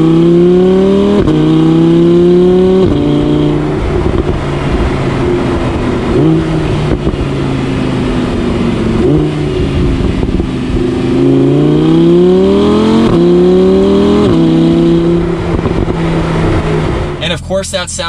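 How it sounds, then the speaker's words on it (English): A 2021 Audi R8 V10 RWD engine revs up and down repeatedly with a loud, close exhaust roar, its pitch sweeping through several climbs and drops. "We got to hear that exhaust a little bit closer."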